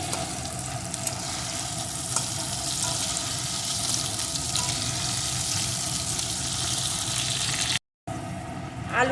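Potato pieces fry in a pan as a continuous, watery sizzling hiss, steady and close, broken by a brief gap near the end.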